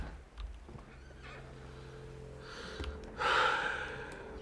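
A horse in the video game Red Dead Redemption 2 neighs once, a clear, fairly close whinny that swells near the end after quieter snorting and breathing.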